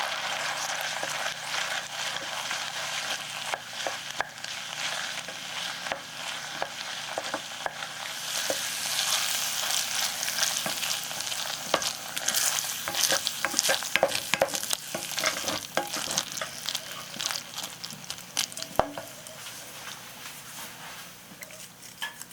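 Mac and cheese with two slices of cheddar is stirred in a hot pan, a steady sizzle broken by repeated scraping and clicking strokes of the utensil, close and continuous with no talking.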